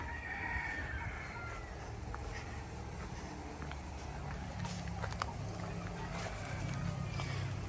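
Chickens and a rooster in caged coops at a rural house in the Philippines are faint and distant under a steady outdoor wash of background noise.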